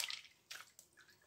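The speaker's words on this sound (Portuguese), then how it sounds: "eu vou escorrendo a massa, tirando toda a água da massa" Water drains from wet toilet paper papier-mâché pulp in a few brief drips and splashes, close and fairly quiet.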